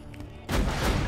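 Rapid gunfire from a weapon in the PC shooter Borderlands 2, a loud dense burst that starts abruptly and fills the short clip.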